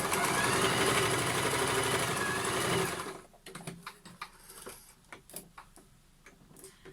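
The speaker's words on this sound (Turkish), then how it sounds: "fermuarımı da dikiyorum" Sewing machine fitted with a zipper foot stitching a zipper onto a small zippered key wallet, a fast steady mechanical whir for about three seconds, then stopping, followed by scattered light ticks and handling clicks.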